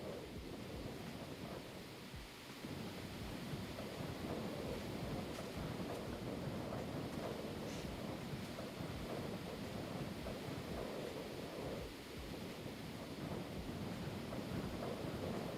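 Steady rain sound in a video game during mountain lake terraforming, a broad continuous wash with a low rumble like distant thunder, constant and fairly loud throughout with no talking.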